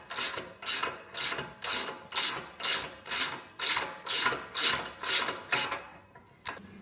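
About a dozen evenly paced rasping ratchet strokes loosening a bolt on a DR RapidFire wood splitter to free the drive belt, close and moderately loud, with no talk.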